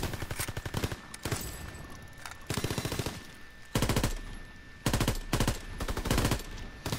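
Gunfire in Call of Duty WW2 comes in repeated bursts of rapid automatic shots, loud and close, separated by short quieter gaps over a low background hum.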